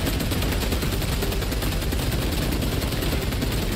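Dense, continuous rapid gunfire from a weapon in the Warhammer 40K game Space Marine 2, a loud unbroken roar of shots packed with crackle and rumble, with no pauses.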